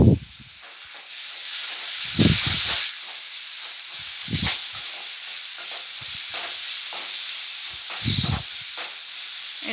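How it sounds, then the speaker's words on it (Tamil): Ginger garlic paste sizzles in hot oil in a pan while a parotta salna gravy is cooked, giving a steady close hiss broken by repeated scraping stirs. "இது நல்லா வதங்கி எண்ணெய் பிரியிற அளவுக்கு வதங்கி வரட்டும்."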